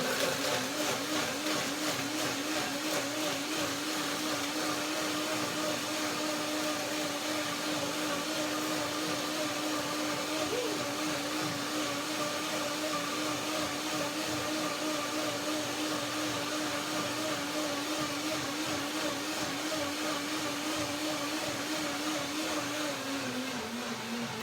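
Blender running continuously at close range for its first short blend of kiwi, apple, hazelnut, persimmon and tangerine cream, a steady loud whirring motor hum with a slight dip in pitch near the end.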